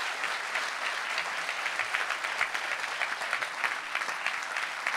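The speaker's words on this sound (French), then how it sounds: "Ouais, on peut l'applaudir." Audience at a Christmas inaugural evening ceremony applauds steadily, a dense, even wash of clapping heard from a moderate distance with no talk over it.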